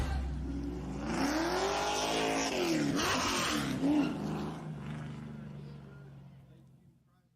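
Race cars at Five Flags Speedway in Pensacola roar past in a loud, swelling pass, engine pitch sweeping up and down as the pack goes by, then fading away into the distance.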